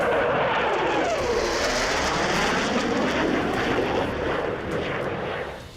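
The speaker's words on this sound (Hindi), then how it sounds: "पाकिस्तान के लड़ाकू विमानों का एक बेड़ा भी अजरबैजान पहुंच चुका है।" Military fighter jets in flight make a loud, sustained roar that swells and shifts in pitch, then fades slightly at the end, with no voices over it.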